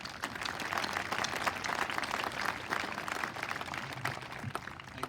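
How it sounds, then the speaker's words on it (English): Crowd applause at the 2023 Augusta Prep graduation ceremony, a broad, even patter of many hands clapping steadily throughout, moderately distant and lively. "One more round of applause."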